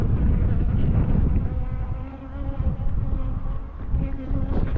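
Honey bees buzz in a dense, continuous drone during a spring hive inspection of a colony with a drone-laying queen, loud and close throughout with no talking.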